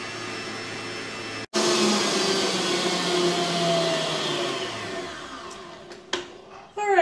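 An electric mixer creams dessert batter in a bowl, a loud, steady motorized whir that starts after a brief pause, slowly shifts in pitch, then winds down with a few clicks near the end.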